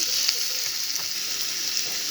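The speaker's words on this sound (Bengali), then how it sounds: "হালকা ব্রাউন কালার করে আমি ভেজে নেবো সুন্দর করে।" Chopped onion sizzles steadily in a pan of hot oil with whole spices, browning lightly; the crackle stays close and constant, with a few soft stirring knocks.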